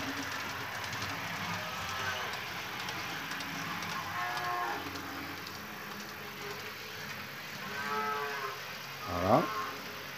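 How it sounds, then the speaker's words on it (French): Cows moo from a sound-effect module on an HO-scale model railway layout, several drawn-out bellows overlapping a steady background hum, with a louder, nearer moo near the end. "j'ai mis des effets sonores sur la partie de mon réseau. Donc les vaches."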